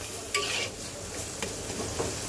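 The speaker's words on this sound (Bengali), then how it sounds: "কম আঁচে 5 থেকে 7 মিনিট এটাকে সুন্দর করে ভাজা ভাজা করতে হবে" Continuous sizzling from a frying pan on low heat with scraping spatula strokes as a mashed taro mixture with cumin powder is stirred, close and fairly loud.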